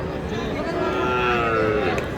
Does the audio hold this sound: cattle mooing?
yes